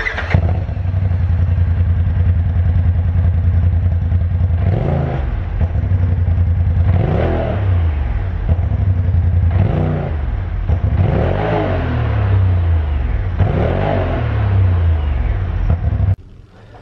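A Polaris RZR turbo with its factory exhaust idles with a low steady rumble. It rises in several short, sharp revs that fall back to idle, then the engine shuts off at the end.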